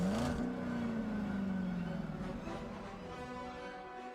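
A car engine revs and whirs as it drives, with a pitch that rises and then slowly falls, loud and steady throughout with no talking.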